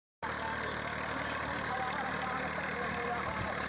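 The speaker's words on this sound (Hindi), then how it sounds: "जैसा आपको दिख रहा है एक आयरन लेवलर इस ट्रैक्टर से अटैच्ड है और ये क्या कर रहा है, फार्म को लेवल कर रहा है।" Tractor towing an iron leveler across a farm field, a constant loud engine drone starting abruptly and holding steady, with a broad rumbling wash throughout.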